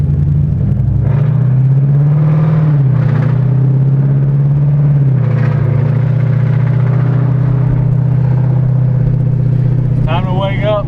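A Paxton-supercharged 2014 Mustang GT automatic with a cowl hood drives along, its engine a steady low hum with brief swells beneath people talking in the cabin.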